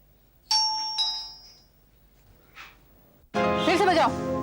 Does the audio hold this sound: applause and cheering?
no